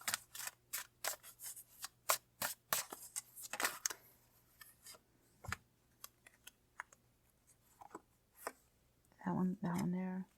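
Tarot cards are shuffled and pulled from the deck in a run of quick, crisp flicks and taps, spaced irregularly and close up, followed by a short spoken remark.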